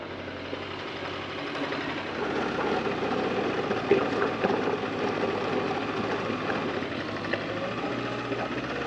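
Sport bike motorcycles ride off-road in Grand Teton National Park, their engines producing a steady, moderately quiet drone with a few brief louder bumps and no voices.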